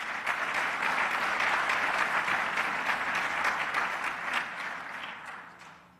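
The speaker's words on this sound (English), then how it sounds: "Let's give them a round of applause as well." An audience at a 2010 Arkansas U.S. Senate Democratic primary debate applauds the volunteers. A full, even round of clapping holds steady, then fades out over the last second.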